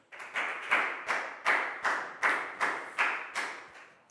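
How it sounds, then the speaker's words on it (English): A small group of children claps for a classmate in a primary school science lesson, producing about eight strong rhythmic bursts in unison at a steady beat, close and loud. "big round of applause for Bangpon"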